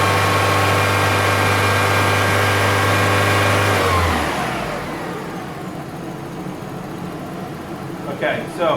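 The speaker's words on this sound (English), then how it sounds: "we're going to have to bring the idle up to a fast idle to get a really accurate reading of its" A car engine held at a raised fast idle for an alternator output test runs loud and steady, then settles to a quieter, lower hum partway through.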